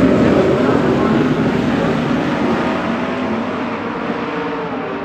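Dirt track sprint cars run a heat race at Port Royal, making a dense, continuous engine roar that fades slightly as the pack passes at a distance, with crowd and track noise mixed in.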